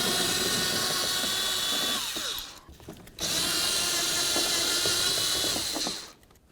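A power tool spins out 10mm bolts holding the latches in the trunk of a 2003-08 Toyota Matrix, buzzing in two close, sustained runs separated by a short pause.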